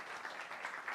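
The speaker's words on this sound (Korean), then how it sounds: "우리 박수로 응원의 박수 한번 하겠습니다." Church congregation applauding during a Sunday worship service, a steady continuous patter of many hands at moderate distance, fairly quiet, with no talking over it.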